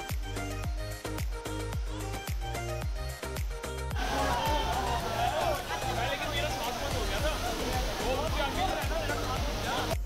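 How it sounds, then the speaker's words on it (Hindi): Karlan waterfall in the hills near Abbottabad, fast-flowing water rushing in a steady broadband roar that swells up after a few seconds of rhythmic clatter and background voices. "और आखिरकार हम मेन कार्ला वाटरफॉल पर पहुंच गए"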